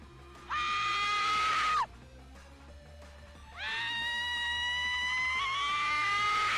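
A woman's shrill, sustained scream rings out, breaks off, then returns longer and just as piercing, loud and close over a low background hum.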